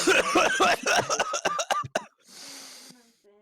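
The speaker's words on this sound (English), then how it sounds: "Sometimes when I laugh, it turns into a cough." A person laughs in a rapid burst of chuckles that turns into a raspy, wheezy cough, close and fairly loud, ending in a short breathy exhale.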